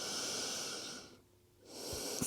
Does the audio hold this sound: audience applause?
no